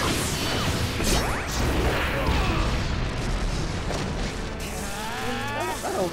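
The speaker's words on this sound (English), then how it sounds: "Fire style, Genie's fire jutsu!" A fire jutsu attack in Naruto Ultimate Ninja Storm 4 erupts with loud crashes, whooshing bursts and booming impacts in a chaotic, sustained barrage.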